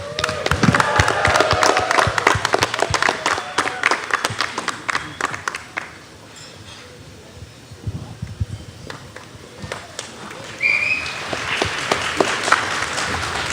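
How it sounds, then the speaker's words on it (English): An audience at a live-streamed event applauds with dense clapping that swells, briefly dips and rises again, with some voices mixed in. "another huge round of applause for Lucky"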